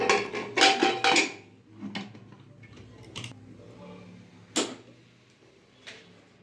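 Four peeled, cut potatoes go into a pressure cooker and the lid is shut. A quick cluster of metallic clanks and knocks comes first, then scattered lighter clicks and a couple of sharper taps, all close by.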